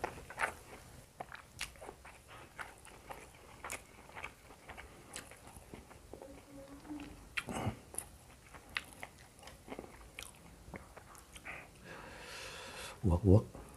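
Fried salted fish being bitten and chewed up close, with a run of crisp crunches and crackles at an irregular pace and a louder burst of crunching near the end.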